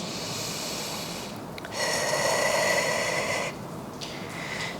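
Breathing in and out during a pelvic floor exercise: a soft airy breath, then a louder, longer exhale in the middle, followed by a quieter breath near the end, close and without talk.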